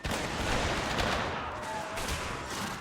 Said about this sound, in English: Go and open fire.